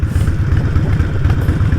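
A Harley-Davidson Nightster 1200 motorcycle engine throbs loudly and close by, its deep pulsing rumble held steady at raised revs throughout.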